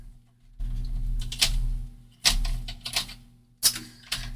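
Paper trimmer blade slicing a thin sliver off paper for a craft envelope, a few sharp close clicks and swishes in uneven bursts over a low steady hum.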